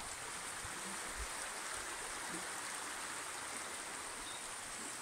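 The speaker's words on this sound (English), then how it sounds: "we're sitting on a bridge over a river." A river flows beneath a bridge in the Vale of Ewyas, Brecon Beacons, a steady faint broadband rush of water with no change throughout and no talk.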